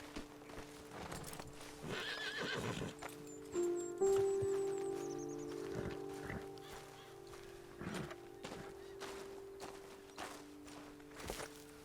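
Horses in the video game Red Dead Redemption 2 give a loud whinny amid steady clip-clopping hooves and rustling, with faint bird calls in a quiet outdoor setting.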